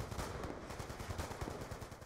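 Rapid automatic gunfire rattles in a video game, a dense, continuous burst of shots at moderate distance with no talking over it.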